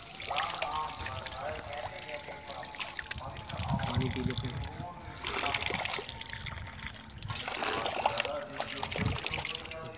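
Water trickles and splashes from the tap of a water tank outdoors, a steady running stream with surges, while people talk over it.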